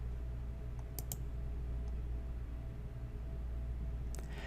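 Mouse clicks as a link is selected in inspection software: a quick double click near the start, a fainter single click, then a brief clatter near the end, all over a steady low room hum with no talking.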